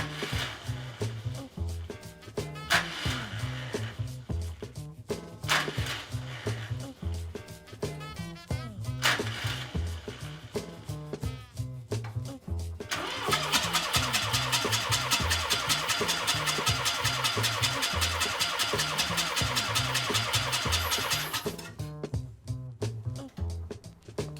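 An old 12A rotary engine in a 1975 Mazda REPU cranks over in repeated rhythmic churning bursts with pauses, then catches and runs rough and loud for several seconds before cutting out.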